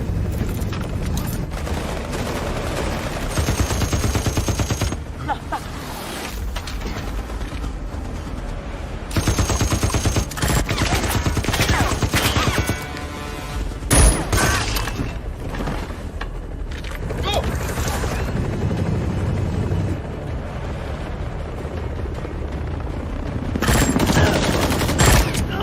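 A helicopter comes under heavy gunfire, with dense bursts of rapid shots and booms that rise and fall over a long stretch. Shouting voices can be heard in the chaos.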